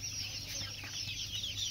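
Local chickens on a duck farm cluck in a steady, close chorus, with soft overlapping calls running unbroken through the short stretch over a constant farmyard background.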